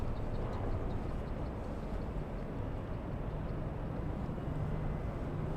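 JetBlue Airbus A321 taking off at LAX, heard as a steady, broad roar of jet engine noise that holds constant throughout with no talking.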